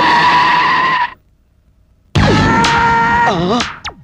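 A vehicle skids to a halt with loud tire squeals, first a long screech that cuts off into near silence, then another harsh squealing skid with wavering pitch that fades out, close and loud.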